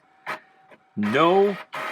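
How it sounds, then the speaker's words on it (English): A home printer running right beside a desk, giving short mechanical bursts and then a louder whirring sweep that rises in pitch before cutting off, close and fairly loud. "the printer next to my desk is going off and probably drowning me out"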